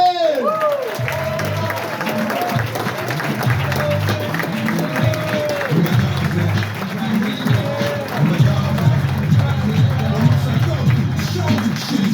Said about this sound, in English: Please give a huge round of applause for Damian Robinson!